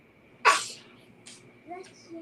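A single sharp human sneeze indoors, close and loud, followed by faint breathy sounds and a brief voice.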